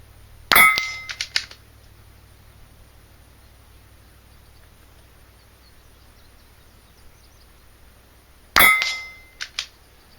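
Two .22 rifle shots on an outdoor NRL22 range each ring sharply off a steel target, with a short metallic echo and smaller clangs after. A long quiet gap separates them, and low background hum runs underneath.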